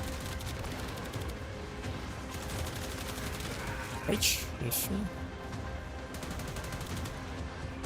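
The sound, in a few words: gunfire from a gun in the video game Warframe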